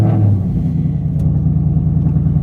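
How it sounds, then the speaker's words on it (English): A 2018 Ford Mustang GT V8 fires up with a brief loud rise at the start, then settles into a steady, deep rumbling idle close to the microphone. "Now they want you to start the car."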